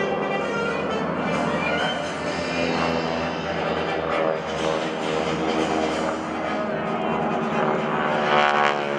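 Propeller aircraft of the GEICO Skytypers team fly overhead at a 2012 Joint Services Open House air show, their engines droning loud and steady with a rising, shifting pitch throughout.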